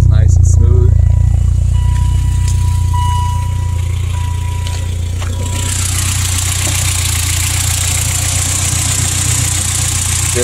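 A BMW E30 M3 engine idles warm with a deep, steady rumble close by, a low continuous throb with faint background noise rising partway through.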